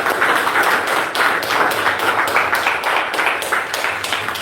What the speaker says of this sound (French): Applaudissons nos pouvoirs alors.